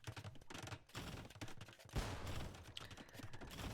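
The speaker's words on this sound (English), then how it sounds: "So we see that the bombard cannons, which again, Bohemian bonus was able to get them out faster, and they are making short work of the enemy buildings" Bombard cannons in the Age of Empires video game fire in a rapid, overlapping barrage of booming blasts and impacts, a dense continuous volley with no voices over it.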